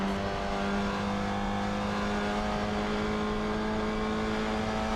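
A 1960s GT race car in Assetto Corsa, driven online at Goodwood, gives a loud, sustained engine drone at steady throttle, holding one even pitch near and constant throughout, with no talking.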